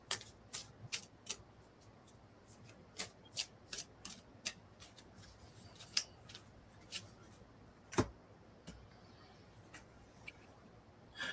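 Oracle cards being shuffled by hand, sounding as a series of crisp, close riffling snaps and soft slides that come in irregular bursts over a quiet room.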